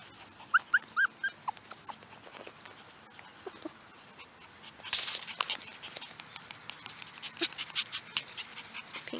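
Six-week-old Norwegian Buhund puppies on a ranch give a string of high, thin whimpers, near and fairly soft. Their paws patter and rustle between cries, and the whines grow busier toward the end.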